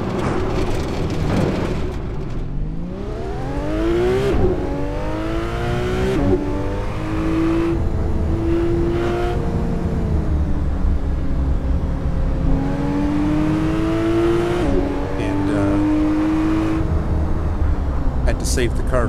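Car engine in the Assetto Corsa racing game on a drive up Topanga Canyon Road, loud and continuous throughout, its pitch repeatedly rising through the gears and dropping on shifts, with someone talking over it at times.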